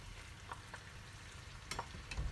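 Cooked farfalle pasta tipped into a pan with veal and mushrooms in their cooking sauce, giving a quiet steady sizzle with a few light clinks and a soft thump near the end.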